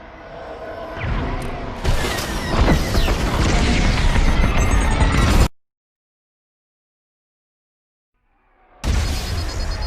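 Ion missiles explode against a starship in the Star Wars Squadrons space combat game, a loud sustained roar of blasts and crashing impacts that cuts to abrupt silence, then booms back in.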